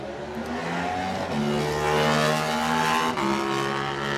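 A Yamaha twin-cylinder race motorcycle pulls away from the start of a road race, its engine rising through steady stepped revs, loud and close, with no talking.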